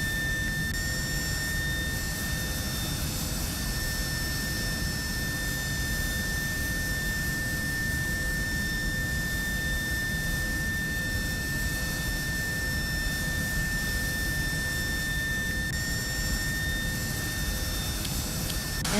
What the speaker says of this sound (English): The turbofan, or fan jet, is a type of air-breathing jet engine that is widely used in aircraft propulsion.